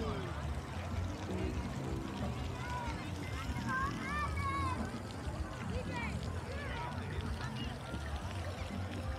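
A fountain at Coney Island, Brooklyn splashes and pours continuously nearby while people chatter and call out in the background.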